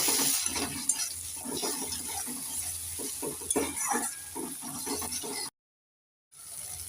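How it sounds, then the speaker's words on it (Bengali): Green chilli paste, ginger paste and mustard-poppy seed paste sizzle in a pan as a spoon stirs them with repeated scraping strokes, followed by a short silent gap near the end. "একটু নেড়ে চেড়ে দিয়ে দেব"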